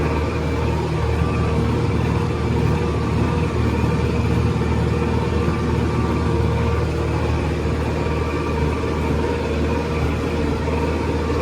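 A new LOVOL P4110 tractor pulling a 9 m spring harrow drones with a steady, loud, continuous engine note heard from close by, with no talking.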